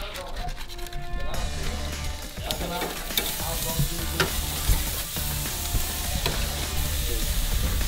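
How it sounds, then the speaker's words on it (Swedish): Burger patties sizzle loudly on a hot grill plate, a dense, continuous frying hiss with scrapes and clinks, while people talk over it throughout. "Kan vi ligga och smälla på dem här på grillen nu så"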